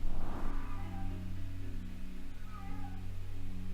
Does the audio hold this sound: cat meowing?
yes